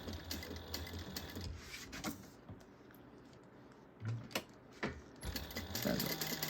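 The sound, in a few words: sewing machine stitching fabric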